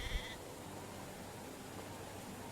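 Sheep bleat in the medieval farming game Medieval Dynasty: one faint, brief bleat at the very start, then only a low, steady ambient hiss.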